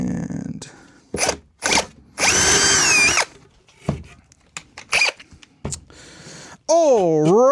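A power drill boring 1/8 inch holes during an amplifier build, with several short close bursts and one longer whine, separated by pauses, clicks and handling noise.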